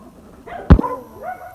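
A dog in a rural village gives one sharp, loud bark at mid-distance, followed by a quieter whine against a faint background hum.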